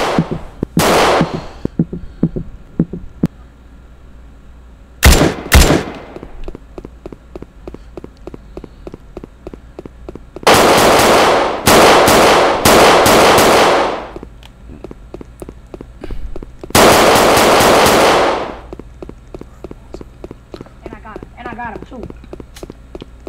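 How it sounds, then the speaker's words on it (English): Rapid gunfire in a Roblox street game, sharp cracking bursts and long rattling volleys coming in several loud clusters, with softer footstep-like taps in between. "Bro, they just came shooting at us."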